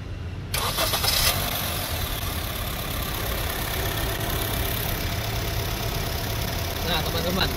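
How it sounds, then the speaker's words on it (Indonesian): A 2014 Honda Mobilio E CVT idles steadily and close by, its even engine hum continuing without break after a short quiet moment at the start. "Saya akan dengarkan mesin 2 menit biar teman-teman lebih enak"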